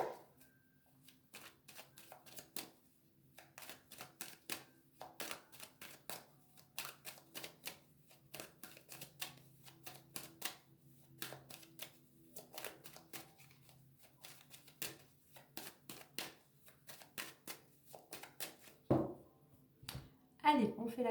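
Tarot cards shuffled and cut by hand, a long run of crisp, rapid riffles and flicks in irregular bursts, close and fairly quiet, with a voice talking between them.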